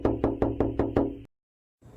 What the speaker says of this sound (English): I started to repeatedly rap on the door.